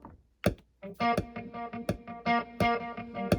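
Distorted electric guitar with a humbucker pickup plays short choppy chords with sharp picked attacks and brief gaps, a driven, gritty tone heard up close and alone.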